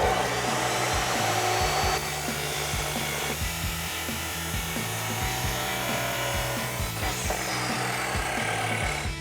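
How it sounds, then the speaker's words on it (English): A chop saw cuts through a metal exhaust pipe from an MBRP single exhaust system for a Ford F-250, giving a loud, steady grinding whine with rhythmic rasping pulses and no talk. "So now we're over at our chop saw."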